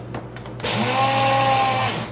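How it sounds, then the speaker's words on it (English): A few soft clicks, then a small electric coffee grinder motor whirs to life with a loud, steady high-pitched grinding drone that continues to the end, grinding seeds to powder for tahini. "pour these into my little coffee grinder"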